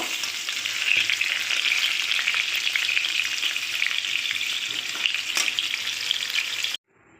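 Pointed gourd (potol) pieces fry in hot white oil with a dense, even crackling sizzle, close up and loud, before the sound stops abruptly.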